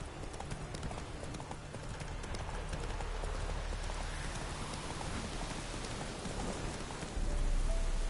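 Roach, a horse in a video game, gallops in rhythmic, steady hoofbeats that stay even and moderately close, with a soft rain-like hiss underneath and no talk.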